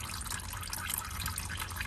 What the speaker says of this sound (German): dass da noch so viel aus dem Ölfilter rauskommt